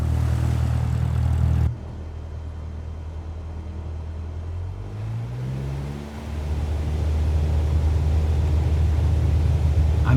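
A Cessna propeller engine in Microsoft Flight Simulator 2024 holds a loud, steady drone, drops abruptly after a couple of seconds, then swells back up with a rising, sweeping pitch as power builds on takeoff.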